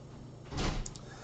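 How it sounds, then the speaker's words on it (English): A back door swings open in a cat rescue center setting, a single short whoosh and thud at moderate volume, followed by a couple of faint high clicks, with no talking. "So the back door swung wide open."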